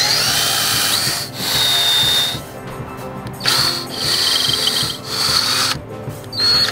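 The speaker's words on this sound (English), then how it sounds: "I'm just drilling a hole deep enough to fit three dowels in" A power drill bores a deep hole into a hard oak log for dowels. A loud, close whine comes in several sustained bursts separated by brief pauses.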